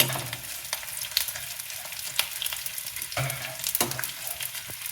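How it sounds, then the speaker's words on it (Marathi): Edible gum fries in hot ghee, producing a busy, crackling sizzle with frequent sharp pops and a few louder bursts, heard up close with no talking. "आता डिंक असा मी सगळा तळून घेते."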